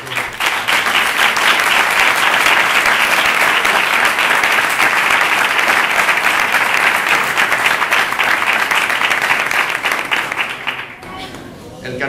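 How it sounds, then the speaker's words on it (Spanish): A loud, sustained round of clapping from the crowd at the Carmona carnival presentation goes on for about eleven seconds, then drops off abruptly, leaving quieter room sound. "Y quiero dar un aplauso."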